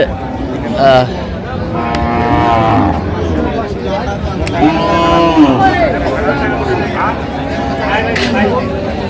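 Cattle, including lean cows, low repeatedly at a busy livestock market in Dinajpur, several loud moos rising over a murmur of crowd chatter and people talking nearby.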